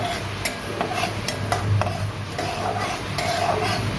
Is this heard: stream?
no